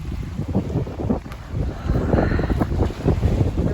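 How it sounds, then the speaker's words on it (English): Gusty wind on the back side of an island blasts across the microphone in loud, uneven rumbling bursts that strengthen partway through, with no talking. "Windy on the backside of the island today."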